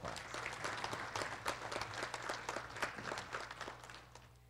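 An audience at a college address gives a round of applause, many hands clapping in a continuous, fairly quiet patter heard from a distance and slowly tapering toward the end.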